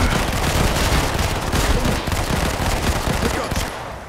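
Dense, continuous automatic gunfire fills a Modern Combat 5: Blackout firefight, rapid shots hammering loud and close for several seconds before easing slightly at the end.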